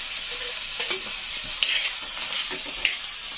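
Green moong bean pods roast in a little oil with a soft, continuous sizzle. Occasional scrapes and light knocks come from stirring in the pan.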